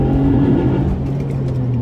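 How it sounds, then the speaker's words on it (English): A 2008 Honda Accord V6 coupe with a manual gearbox in second gear, its engine note droning, then dipping abruptly as traction control cuts power mid-corner, then carrying on at a lower, steady level. "That was second gear, and it started kind of abruptly cutting power in mid corner."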